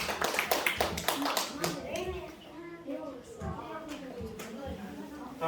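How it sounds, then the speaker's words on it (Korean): Children clap in a quick burst during an online worship session on Zoom, and the clapping gives way to overlapping children's voices and talk. "하나님 앞에 영광의 박수."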